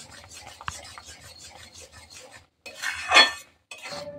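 A pan of khirsa, milk thickened by cooking, is stirred with a utensil in steady rasping, scraping strokes. The scraping swells louder near the end, with brief pauses between bursts and no talking.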